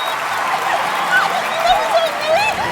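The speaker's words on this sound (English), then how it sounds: "Applause, if you please." Steady applause from a crowd, a dense wash of clapping throughout, with faint voices mixed in.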